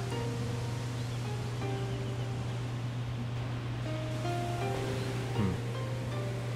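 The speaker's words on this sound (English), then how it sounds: "It sounds like a waterfall." Continuous rushing waterfall ambience in the video game Shenmue 2, a steady even roar heard from a distance with a low constant hum underneath, no voices.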